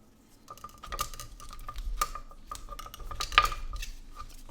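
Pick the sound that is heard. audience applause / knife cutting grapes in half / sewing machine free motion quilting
knife cutting grapes in half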